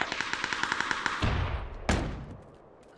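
Rapid automatic gunfire in the shooter game PUBG, a fast even burst of about a dozen shots followed by two heavier single blasts with short echoing tails.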